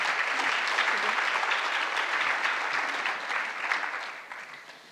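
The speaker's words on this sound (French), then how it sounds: "Je vous invite à les applaudir pour la réussite." Sustained applause from an audience at a French talk fills the room, loud and dense at first, then thinning and fading near the end.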